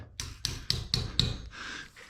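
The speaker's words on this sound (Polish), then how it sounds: "młotek i wbijamy" Ceiling hangers and wall plugs are driven in with a hammer, producing about five evenly spaced, sharp close knocks followed by a fading ring.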